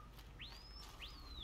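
Two faint, rising whistles sound one after another in the video game Horizon Zero Dawn, each sweeping upward and then holding a thin high tone over a low ambient hum.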